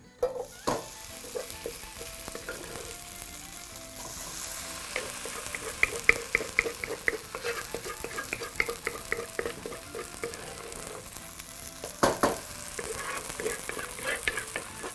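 Kenyan mukimo mix is scooped into a pan of hot oil, sizzling and frying steadily while a utensil scrapes and stirs in repeated clinking strokes, close by, with faint speech in places.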